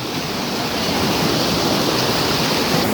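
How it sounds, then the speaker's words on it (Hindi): A hidden waterfall in a rocky gorge near a dargah in Kanera, Rajasthan, where fast-flowing water pours in a steady, loud, broadband roar, close and constant with no voices over it. "आपको आवाज़ भी आ रही होगी पानी की, उससे पता पड़ रहा होगा कितना ज़्यादा तेज़ है पानी।"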